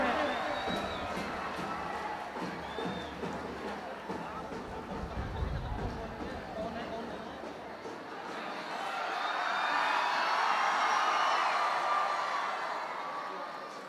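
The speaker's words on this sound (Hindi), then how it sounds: "जोरदार ताली बजाइए और स्वागत करिए।" At a college poetry gathering, an audience breaks into loud cheering and crowd noise that swells and fades over several seconds, with a second wave of whoops and applause rising toward the end, a voice mixed in beneath.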